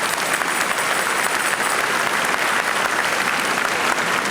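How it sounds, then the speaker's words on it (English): Sustained applause from a large audience at a school district convocation, a dense, even wash of clapping with no pauses. "give yourselves a round of applause for that one."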